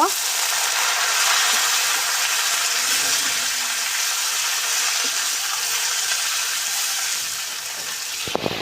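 Bottle gourd greens and onions fry loudly in a pan, a dense continuous sizzle that holds steady close up, easing slightly toward the end before a few clattering knocks.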